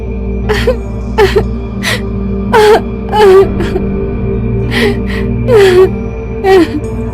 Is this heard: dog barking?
no